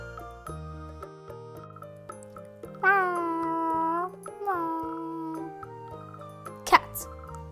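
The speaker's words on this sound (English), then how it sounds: "Cat." A cat meows in a read-aloud of an animal picture book for children, with a few drawn-out meows set against soft background music and a brief jingle near the end.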